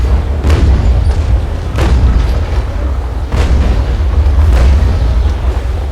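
Naval cannon fire in the sailing game Naval Action booms out in several heavy shots spaced over a few seconds, each a loud deep blast over a constant rumble of wind and sea.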